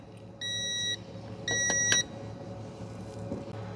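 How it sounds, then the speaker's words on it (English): Two sustained electronic beeps from a brake fluid tester signalling excessive moisture, each about half a second long, high-pitched and steady, separated by a short pause over faint background hum. "That's why it's beeping."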